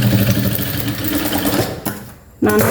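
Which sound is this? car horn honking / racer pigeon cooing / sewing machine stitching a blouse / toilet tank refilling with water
sewing machine stitching a blouse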